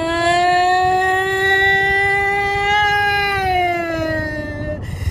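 A voice imitates a baby's wailing, siren-like cry, one long sustained rising and falling tone held loudly for several seconds before cutting off.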